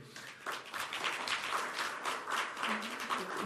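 Audience at a Turkish contractors' association year-review event applauds, a moderate, continuous patter of many hands clapping in a hall, fairly even throughout.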